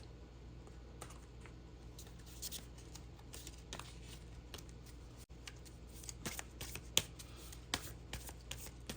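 Tarot cards being shuffled and drawn, a continuous close riffling and flicking of card stock with small sharp snaps scattered through, steady and fairly quiet with no talking.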